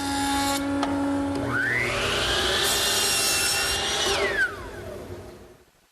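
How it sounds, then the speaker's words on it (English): Salvage timber is machined for an Irish table, being planed, ripped to width and cut to length. A woodworking machine whines up in pitch, holds a loud steady cutting drone for a few seconds, then winds down and fades. "They need to be surface planed, jointed, ripped to width,"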